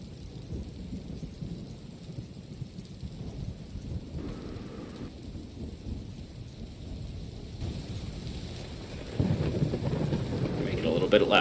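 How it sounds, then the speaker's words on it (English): Steady rain pours throughout with low rolling thunder rumbling beneath, building louder near the end as the storm intensifies; no voices, just continuous ambient thunderstorm. "I guess you can have this ambient thunderstorm sound."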